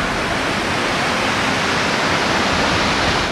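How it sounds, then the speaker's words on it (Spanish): Water roars steadily at the top of a waterfall where the fall begins, a dense, unbroken rushing wash heard up close and loud, with no voices over it. "es que es la primera vez que puedo ver una cascada desde arriba, desde donde comienza"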